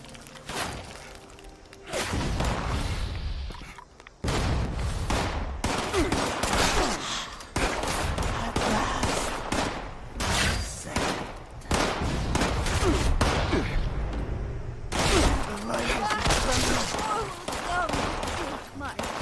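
Repeated gunfire from other players in Fallout 76 on PC, loud bursts and scattered shots filling most of the stretch with brief lulls between volleys.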